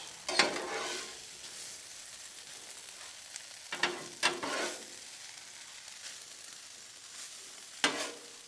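Hash browns fry in bacon grease and butter on a griddle, giving a steady soft sizzle broken by a few sharp scraping bursts from a spatula, close and moderately loud with no voices.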